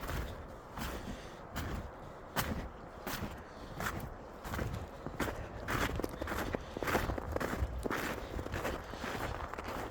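Footsteps in basketball shoes tramp steadily through deep snow, each crunching step coming close and fairly loud in a regular walking rhythm with no talk.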